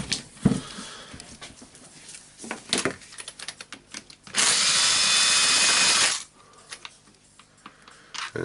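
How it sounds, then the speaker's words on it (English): A power tool drills out screws from the handle of a Hilti TE905-AVR breaker: a loud, steady whirring burst of about two seconds, surrounded by scattered clicks, taps and handling clatter of the disassembly. "Removing the screws. It's only 4 screws holding the handle."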